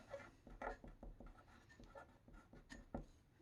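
Pencil scratching across paper while a name is written, a quiet run of short irregular strokes and scrapes, close and alone with no talk.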